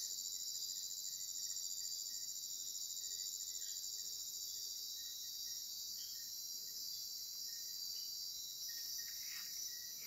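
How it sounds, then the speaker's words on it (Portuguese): Cicadas and crickets at night in the countryside keep up a dense, continuous high-pitched trilling, steady and unbroken throughout with no voices. "Só ouvindo as cigarras, os grilos, a natureza é demais."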